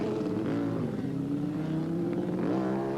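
Ducati racing motorcycle engine at a 1987 street race in Wanganui, droning loud and steady throughout, with pitch dipping then rising as the rider accelerates away.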